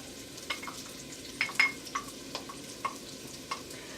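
Chopped onions and poblano peppers sizzle in a hot pan while a spoon scrapes and stirs them, with a run of distinct clacks and scrapes over a soft, steady frying hiss.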